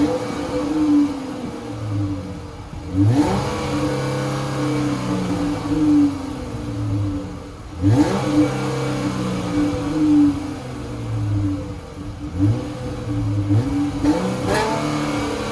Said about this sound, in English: I'm gonna go rev the engine so you guys can check out the exhaust note.